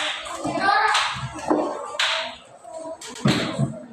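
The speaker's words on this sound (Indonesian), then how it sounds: "berikan aplaus untuk kelompok satu" Classroom applause for group one from fifth-grade primary school pupils, bursts of clapping and slaps with children's voices mixed in.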